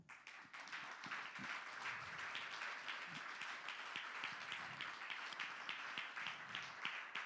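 A church congregation applauding the Lord, sustained dense clapping with scattered cheers, continuous and moderately distant.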